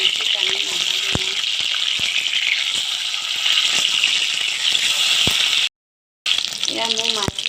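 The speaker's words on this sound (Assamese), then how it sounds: "এতিয়া তেল গৰম হোৱাত এয়া মই মাছ কেইপিচ দি লৰাই ভালকৈ ভাজি ল'ম।" Fish pieces frying in hot oil for a tomato fish curry give a loud, steady sizzle. A voice briefly speaks over it, and the sound cuts out for a moment near the end.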